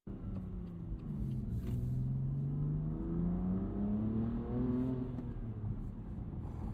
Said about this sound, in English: This exhaust.